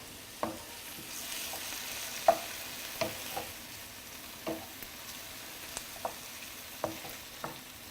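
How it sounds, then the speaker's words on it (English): Back of a spoon mashing and stirring tomatoes in a pan for egg bhurji, giving soft scraping and tapping strokes roughly every half second over a faint steady sizzle, close and fairly quiet. "I'm just using the back of the spoon to just mush the tomatoes a little bit"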